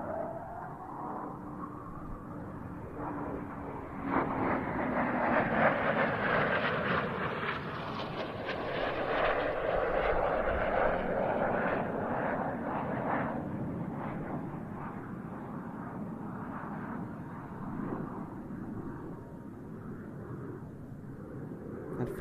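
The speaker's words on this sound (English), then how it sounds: "But now here comes a Royal Air Force Typhoon FGR-4." Royal Air Force Eurofighter Typhoon FGR-4 jet flying past at RIAT, a distant broad roar that builds gradually and lingers, with a falling tonal whine as it passes.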